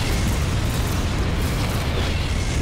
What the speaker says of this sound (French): Je vois que c'est une explosion.